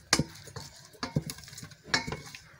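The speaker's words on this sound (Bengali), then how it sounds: "এখন আমি খুব সুন্দরভাবে গরম সরিষা তেলের সঙ্গে পেঁয়াজ কুচি এবং কাঁচামরিচ কুচি মিক্সড করে নিচ্ছি।" Chopped onion and green chilli are stirred in hot mustard oil, with three distinct clinking scrapes of a utensil against the pan over a faint sizzle, spaced about a second apart.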